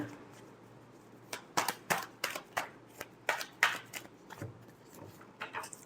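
Tarot cards shuffled by hand in a string of quick riffling bursts, close and fairly crisp, over a faint steady background hum.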